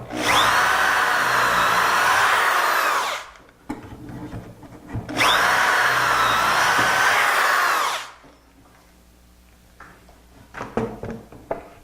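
Two long bursts of a power drill boring dowel holes into a wooden armoire corner pillar through a Dowelmax jig, each run lasting a few seconds, followed by lighter knocks and handling of the wood.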